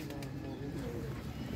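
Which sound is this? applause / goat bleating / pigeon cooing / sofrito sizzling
pigeon cooing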